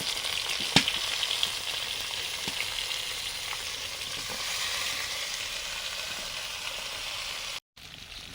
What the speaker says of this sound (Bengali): বেগুন ভাজছি প্রথমে।